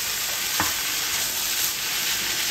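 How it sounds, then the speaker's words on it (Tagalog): Sisig ingredients sauté in a very hot non-stick pan, giving a dense, steady, loud sizzle throughout with a single brief knock of a utensil, close and with no talking. "Gigisa ko po muna dito. Kailangan po yung kawali po ninyo mainit na mainit para medyo may crispiness."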